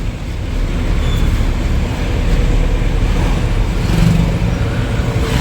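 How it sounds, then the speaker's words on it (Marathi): Heavy road traffic crawls through a fully packed jam on a bridge in Palghar, with cars halted by police: a steady, dense rumble of idling and slowly moving vehicles that stays continuous throughout, with no voices. "ब्रिज वरतून भरपूर ट्रॅफिक आहे, म्हणजे पूर्ण पॅक आहे."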